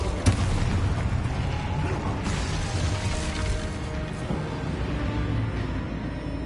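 A dense, rumbling blast from the Expulso explosion spell in Hogwarts Legacy, a steady wash of booming and crackling debris that carries on for several seconds with no talk.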